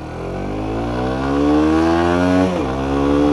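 A motorcycle engine revs hard and close, its pitch climbing steadily under acceleration, then dropping sharply at a gear shift before it pulls again.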